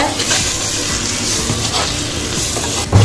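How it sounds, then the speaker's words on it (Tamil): Chili powder and coriander powder masala being stirred in a pan for a pepper mutton curry, giving a steady, even sizzle with soft scraping throughout and a brief louder clatter near the end. "மிளகாத்தூளை மல்லித்தூளை நம்ம இதை கிண்டி விடுவோம்"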